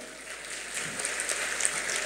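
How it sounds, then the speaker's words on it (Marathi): An audience at a kirtan festival event claps in a steady patter of applause that swells slightly toward the end, heard from a moderate distance without speech. "न सांगता टाळ्या आल्या म्हणजे आपला सन्मान पोचला."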